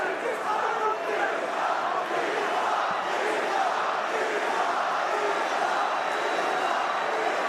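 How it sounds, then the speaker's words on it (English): A dense arena crowd at a UFC fight roars steadily with a chanting swell, a continuous loud wash of many voices. "Khabib is cheerleading the crowd as the Islam chants rain down"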